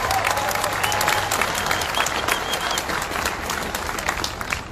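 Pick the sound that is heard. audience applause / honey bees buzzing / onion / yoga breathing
audience applause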